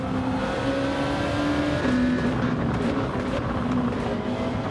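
Mercedes CLK race cars in Gran Turismo 7 drone steadily at high revs, a continuous loud engine roar with slight pitch shifts as they run down a straight.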